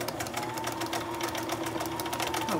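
A sewing machine with a troubled thread feed runs steadily with a fast, even mechanical chatter and hum, close by and alone throughout.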